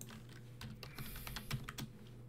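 Password typed on a computer keyboard, a quick irregular run of close, crisp key clicks over a faint background hum.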